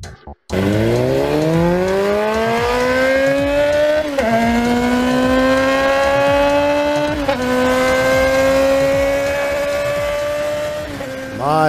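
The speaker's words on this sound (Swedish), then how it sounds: "Och åka motorcykel." A motorcycle engine revving and pulling away up close, pitch climbing steadily through several gear shifts over about twelve seconds, loud and continuous with no talk.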